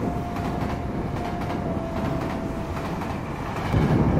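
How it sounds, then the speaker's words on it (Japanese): Steady rumbling roar of a train passing nearby in Sawara, Japan, with a faint whine running through and the noise swelling louder at the end. "道の駅の前、列車が通ってます。"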